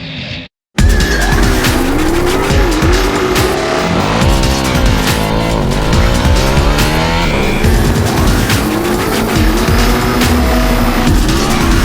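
Cars launch from a line down a runway in a race, engines roaring loud and close as they rev and shift, with tire squeal and skidding layered through a dense, continuous wall of sound after a brief quiet start.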